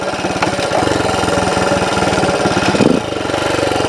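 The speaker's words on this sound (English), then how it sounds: "It's been a few years since I rode a motorbike." A 1964 Honda CT90 motorcycle engine runs steadily and loud with a rapid pulsing rumble, briefly surging near the end as if revving while riding.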